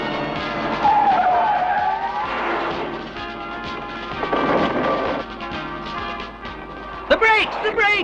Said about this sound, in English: The brakes! The brakes! She's out of control!